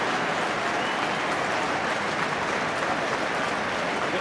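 Steady broadband roar of a football crowd applauding goal scorer Noel Hunt at Reading's home match against Coventry City, a dense continuous wash of clapping and cheering filling the whole stretch without a break.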